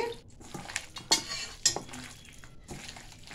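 Mutton being mixed and worked in a pot for mutton kosa: soft stirring with a few sharp clinks of a spoon against the pan over a faint background sizzle.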